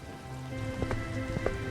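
Steady rain in an animated Hindi story, falling over a roadside dhaba as an old woman arrives soaked, a dense patter with a few brief clunks over a constant wash, alone without speech.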